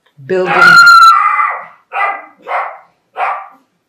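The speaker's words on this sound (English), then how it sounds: "My dog just started barking." A dog at home lets out a long howling bark followed by three short sharp barks, spaced about half a second apart, loud and close with nothing else around.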